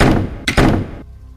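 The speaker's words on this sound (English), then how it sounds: "Then all the doors in the place slam shut at once." Several heavy doors in an empty building slam shut at once, a cluster of loud close thuds and knocks in quick succession followed by quiet.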